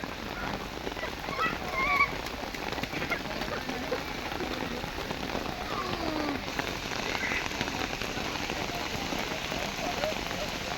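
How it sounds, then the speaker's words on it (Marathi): Rain pattering and dripping onto a leaky umbrella at a zoo, a dense, steady spatter close by with scattered drip taps, and faint distant bird calls mixed in. "मजबुरीने आमची छत्री पण टपकते"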